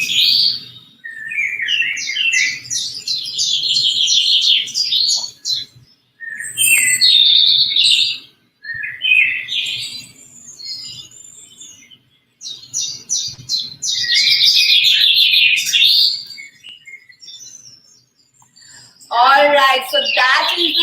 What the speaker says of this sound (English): Lovely birds singing their way out